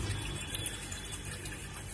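Cold water pours steadily into a fish tank, a continuous splashing rush that stays at an even level for the whole stretch with no talking.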